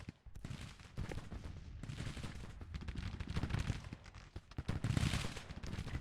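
Massed musket volleys and rolling gunfire in the Civil War strategy game Grand Tactician, dense overlapping cracks and rumbling bursts that swell and fade continuously without a break.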